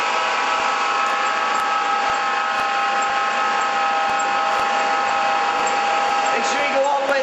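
A steady, high mechanical whine from a drill press runs continuously at even volume, with a faint shift near the end.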